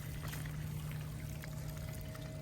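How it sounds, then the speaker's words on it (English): Water pouring outdoors from a pipe to wash cut-up chicken for Jamaican jerk chicken, a steady, fairly quiet continuous pouring and trickling sound with no talk. "Put some water in there."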